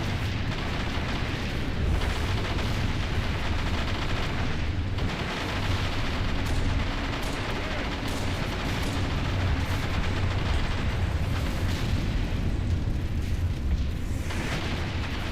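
Relentless heavy explosions and booming gunfire roll on without pause during a gun run in Halo: Reach, loud and continuous, layered blasts blending into a sustained rumble.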